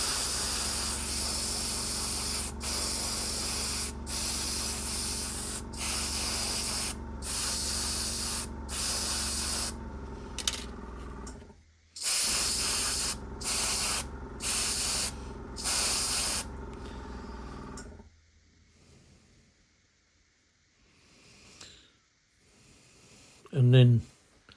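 An airbrush sprays paint in a string of short, sharp hissing bursts separated by brief pauses, then falls quiet, with a faint voice near the end.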